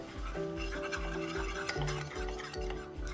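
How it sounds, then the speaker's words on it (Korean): Flour stirred into melted butter for a roux gives soft, rhythmic scraping strokes about every half second, close and fairly quiet, against a faint sizzle. "버터가 녹으면 밀가루를 한 번에 넣고 바로 저어주세요"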